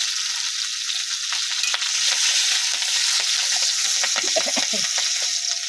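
Dried red chilli and chopped onion sizzle in hot tempering oil, a loud steady frying hiss with crackles and spatters, plus occasional stirring scrapes.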